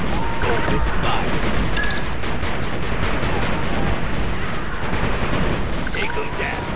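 Dense, continuous battle gunfire from units in the game 8-Bit Armies, loud and sustained with overlapping volleys and occasional heavier blasts, under brief unit voice callouts.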